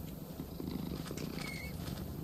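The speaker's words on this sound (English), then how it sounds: "And you hear it purring." A bobcat purring in the Minecraft Sonorama mod, desert animals showcase, a soft, steady low rumbling purr that continues evenly and close by, with no voices.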